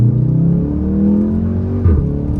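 A sports car's Milltek exhaust with a non-resonated mid-pipe drones steadily then blips, a deep loud rumble close by with no talking.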